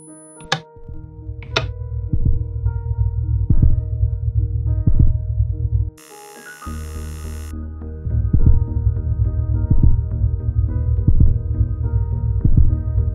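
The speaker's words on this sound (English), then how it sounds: "we can hear the sound of a human heart start to beat" A human heartbeat thumps in a Minecraft game world as a steady, slow, deep throbbing pulse over a low hum, loud and close, briefly interrupted by a burst of static before the beating resumes.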